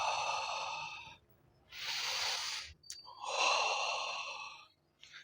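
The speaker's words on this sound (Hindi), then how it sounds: "हमें नाक के ज़रिए साँस अंदर खींचना है लंबा और फिर मुँह के ज़रिए निकालना है।" A person takes a long deep breath in through the nose and blows it out through the mouth, then repeats it, with close, loud, hissing breaths separated by short pauses and no talk.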